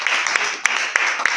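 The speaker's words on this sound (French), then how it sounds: "On peut applaudir pour vous." An audience at a foundation's annual general assembly claps steadily, a dense wash of applause with a few sharper individual claps standing out, close and sustained.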